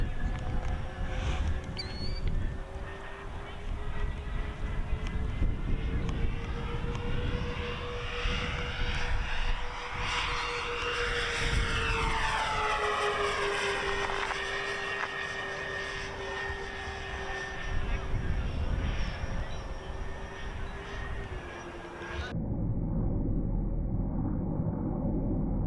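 A 63-inch Motion RC P-38 twin-engine model airplane flies inverted, its steady electric motor drone rising and falling in pitch as it passes close overhead, loud and continuous throughout.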